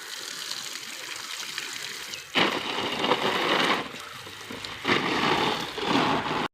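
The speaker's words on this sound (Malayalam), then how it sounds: "ഇനി നമുക്ക് ഓരോന്നിനായിട്ട് ഒഴിക്കാം കേട്ടോ കുത്തി ഒഴിക്കല് മണ്ണൊലിഞ്ഞു പോവും" Water pours onto potted plants in a home garden in several separate splashing gushes, each lasting a second or more, close and fairly loud, with no talking.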